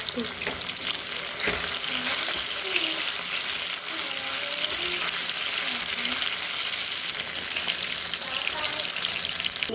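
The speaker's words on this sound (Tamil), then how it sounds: "சிக்கன் பொறிச்சு வச்சுக்கலாம்" Chicken pieces fry in a pan with a steady, close crackling sizzle, broken by occasional stirring scrapes and faint kitchen clatter.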